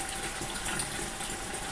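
Water pours and gushes as it is moved between aquarium tanks, a steady hissing, splashing flow at moderate level without talking.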